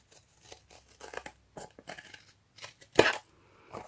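Scissors snip through paper in a few short, crisp cuts, with one louder, sharper snip near the end, heard close up in a quiet room.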